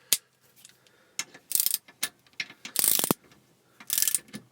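A ratchet wrench is turned in a home shed, tightening a serviceable part. Its rapid clicking comes in several close, loud bursts separated by short pauses, with no talk.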